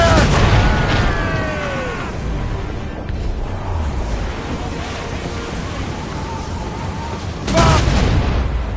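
Ship cannons boom in the Assassin's Creed Rogue naval battle, with loud blasts at the start and again near the end over rolling surf, wind and shouted crew voices.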